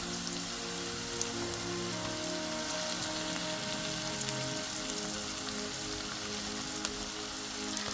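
Beef tenderloin sizzles steadily in a hot pan, a dense, even frying hiss with crackles like light rain that holds for the whole stretch, close and fairly loud with no voices.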